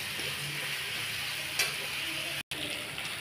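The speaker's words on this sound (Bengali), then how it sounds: "দিয়ে আমি এই আলু পটলটাকে একটু কষিয়ে নেব ভালো করে নেড়ে নেড়ে।" Potato and pointed gourd sizzling in a pan with ginger paste, stirred with a spoon; steady broadband frying hiss throughout with occasional scraping clinks, one brief sharp scrape midway and a momentary gap near the end.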